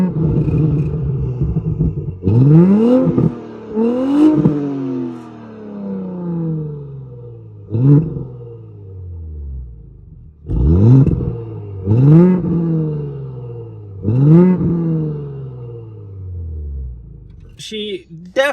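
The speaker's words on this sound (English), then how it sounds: "we're gonna give you some revs and then go for a drive" A 2018 Audi S5 Sportback engine with a Stage 1 tune revs hard several times, each burst rising sharply in pitch and then falling back to idle, loud and close.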